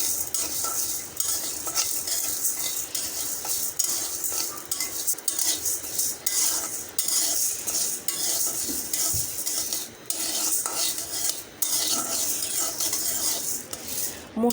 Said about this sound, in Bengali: এই মসুর ডালটাকে ভেজে নেব।